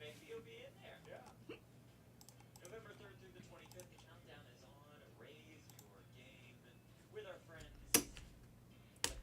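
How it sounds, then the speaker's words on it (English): A man hiccups during a sports card box break: a couple of sharp, sudden hiccups near the end stand out over quiet murmured speech and light clicking. "Now I got the hiccups."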